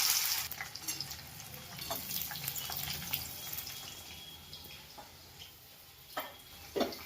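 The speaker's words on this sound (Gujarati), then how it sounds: "આપણે ડુંગળી નાખી દઈએ છીએ।" Onions frying in oil in a pan already seasoned with green chillies, bay leaf, cloves, cinnamon and star anise, sizzling steadily with a broad hiss and a few soft stirring clicks and scrapes.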